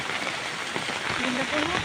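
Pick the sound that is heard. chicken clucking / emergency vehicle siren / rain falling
rain falling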